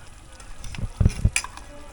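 Black sesame seeds tipped into a hot frying pan while cooking Khasi Tungrymbai, giving a close crackling sizzle with a few sharp pops and scraping bursts.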